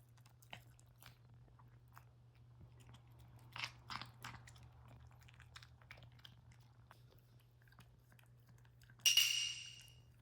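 A puppy eating food up close: faint, scattered crunchy bites and chewing clicks, with a louder snap near the end, over a steady low hum and no talk.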